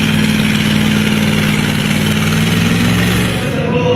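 Engine noise at a truck and tractor pull, a heavy motor droning steadily and loudly with strong low harmonics, holding a constant idle-like pitch before easing slightly near the end.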